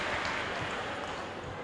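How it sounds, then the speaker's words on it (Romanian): Applause for a gymnast at a gymnastics competition, a dense, even wash of clapping from an arena crowd, steady and moderately loud throughout the short stretch. "Aplauze pentru Erica."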